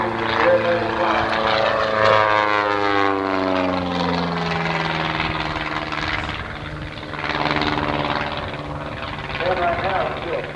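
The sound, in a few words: aerobatic propeller airplane performing at Oshkosh 1989 airshow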